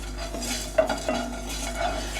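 Fennel seeds in a hot kadai on a low flame make a soft sizzle while a metal spoon scrapes and clinks against the pan a few times, close and fairly quiet.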